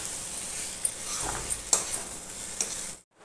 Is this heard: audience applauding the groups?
no